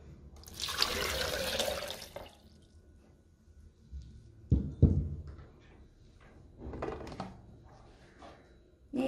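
Water poured into a blender jar for a banana milk drink, a broad splashing pour lasting about a second and a half near the start, followed by quieter clinks and handling sounds close by.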